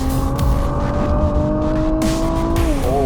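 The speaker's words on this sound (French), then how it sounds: "Le son du GT-R est assez particulier, toujours aussi agréable comme musique." A 2017 Nissan GT-R engine drones loudly and steadily at high revs, its pitch dipping briefly near the end as the driver shifts or lifts off.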